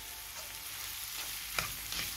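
Red capsicum and tomato pieces sauté in a pan, giving a soft, even sizzle with a couple of light spatula taps, and no talking.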